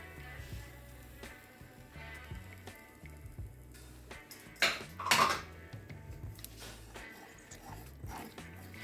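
Cream being stirred into a pork chop pan sauce, with a spoon scraping and clinking against the pan over a steady background hum and a couple of louder knocks midway.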